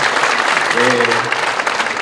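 A church congregation gives applause of thanks at the close of a worship service, steady dense clapping throughout, with a voice speaking over it partway.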